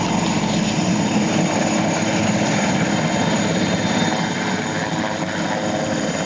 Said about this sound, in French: Un hélicoptère décolle,